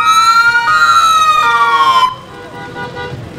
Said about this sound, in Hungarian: Egy mentőautó is megérkezett.